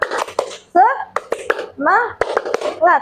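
Indonesian primary class performing the rhythmic 'tepuk semangat' clap routine, sharp patterned bursts of hand claps alternating with children and a teacher chanting together.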